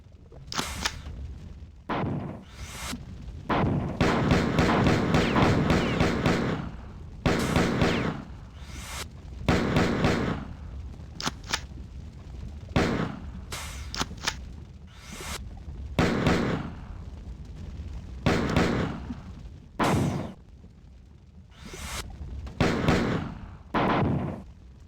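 Shotgun blasts in the video game Marathon 2: Durandal ring out one after another, each a heavy booming shot with a short decay, spaced unevenly in clusters over a long stretch of gameplay.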